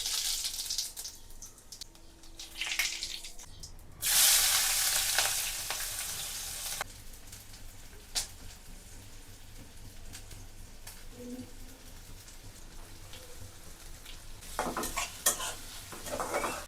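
Dal bhuna frying and being stirred in a pan: a loud burst of sizzling as ingredients hit the hot oil, then continued crackling with utensil scrapes and clinks against the pan.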